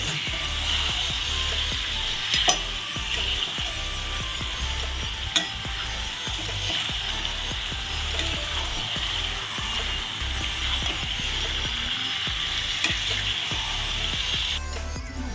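Chicken masala sautéing in a pan sizzles loudly and continuously close by, with spatula scrapes and occasional knocks against the pan throughout.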